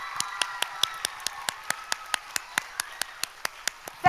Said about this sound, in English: But another round of applause for all these amazing young people.